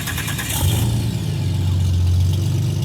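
A car engine with equal-length headers burbles steadily at close range, its low, lumpy exhaust note rising slightly as it revs, with no talking.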